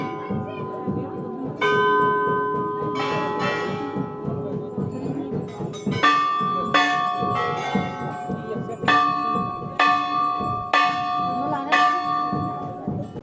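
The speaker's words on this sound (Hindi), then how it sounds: "इतने सारी यहाँ पर घंटियाँ हैं" Many metal bells at a Hindu temple in Uttarakhand ring in repeated clanging strikes with long ringing overtones, close and loud, overlapping irregularly with no talk.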